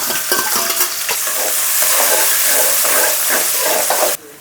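Onions fry and sizzle steadily in hot oil with cashews and cloves while being stirred, a dense close crackling hiss that stops abruptly near the end.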